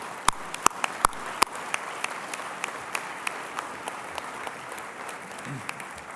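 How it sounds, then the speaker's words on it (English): Audience applause at the Alaska Federation of Natives convention: loud sharp claps open the round, then settle into sparse, scattered claps that fade over several seconds. "How about another round of applause for all of them?"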